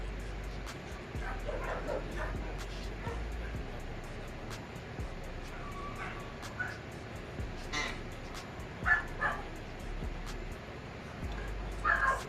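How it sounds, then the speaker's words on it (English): Several dogs barking and yipping intermittently at some distance, fairly faint, with occasional whimpers and a few louder bursts toward the end. "Once you have the dogs, you can tell the different barks"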